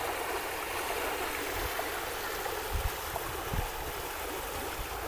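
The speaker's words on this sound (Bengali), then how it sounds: "দেখো স্রোত দেখো কেমন" Strong floodwater flows over a village road in a continuous broad rushing wash, steady and moderately loud, with a few faint low thumps and no voices.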